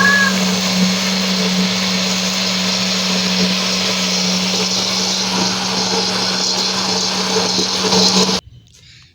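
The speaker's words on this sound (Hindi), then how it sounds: "ये मैंने चीनी डाल के इसको अच्छे से ये देखिए मिक्स कर लिया, ग्राइंड कर लिया" An electric blender grinds mango, sugar and milk into lassi with a steady, loud motor whine that holds for about eight seconds before cutting off abruptly into near quiet.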